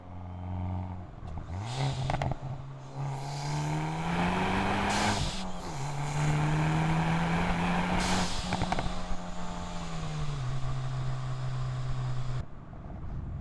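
A Hyundai i30N drives hard on bumpy B roads in custom mode, its loud engine note rising and holding steady through gear changes, with a rev climb near the start and a brief easing around the middle before it settles.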